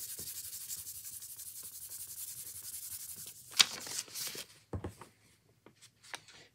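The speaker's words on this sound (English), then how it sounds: "Let's scratch it more." Close, dry scratching and rubbing against a DVD disc in steady rapid strokes, followed by a few louder, sharper scrapes and then quieter, sparse scratches.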